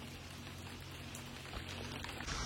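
Rain pours during a cycle ride from Dibrugarh to Namsai, a very faint but dense, continuous patter with no voices.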